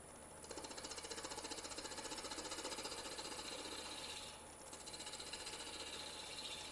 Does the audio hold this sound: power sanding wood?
yes